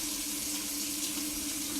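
Hot tap water runs steadily into a kitchen sink for washing up, a continuous close splashing rush with no talk.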